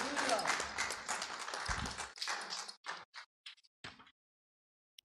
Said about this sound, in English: Give God a clap for that